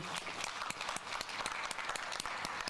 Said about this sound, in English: We shall applaud for her